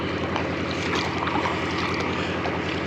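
An old kayak paddled on open water near a beach, with a steady wash of water and wind noise across the microphone and no clear separate strokes.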